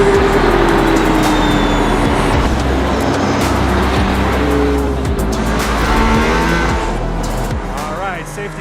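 Mercedes-AMG ONE hypercar at full throttle on the Barcelona circuit, a loud high-revving engine scream with rising pitch sweeps through gear changes, heard from inside with a person talking over it.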